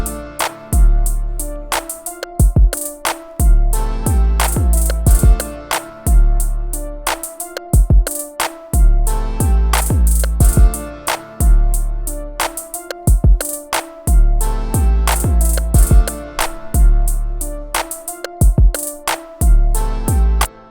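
A looping trap beat with sharp claps on a steady rhythm, low bass hits and repeating piano chords, loud and continuous with no voices.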